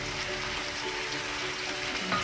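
Cabbage frying in a pan for a beef and cabbage stir fry, giving a steady, even sizzle that holds at moderate loudness throughout with no voices.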